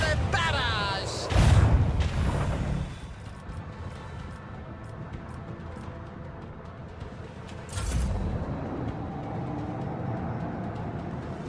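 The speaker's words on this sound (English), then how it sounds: "Initiate macro cannon barrage!" A macro cannon barrage fires in the space game Warhammer 40k: Rogue Trader, with two heavy booming blasts a few seconds apart over a rumbling background. Voices speak over the gunfire.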